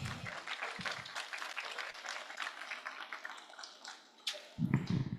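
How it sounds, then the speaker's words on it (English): Audience applause at a high-level UN anniversary event on Ethiopia, a dense steady clapping from a large crowd lasting several seconds before tapering off, followed by a brief low thump near the end. "Let's please give them a round of applause."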